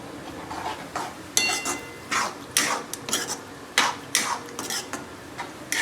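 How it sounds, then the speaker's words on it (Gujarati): Soybean chunks are stirred into a pot for soybean masala rice, a spoon scraping and clinking against the metal in repeated strokes, close and fairly loud with no talking. "અને હવે આ જે સોયાબીનની ગોટી છે ને એ નાખી દઈશું અંદર. અને બધું મિક્સ કરી દઈશું સરસથી."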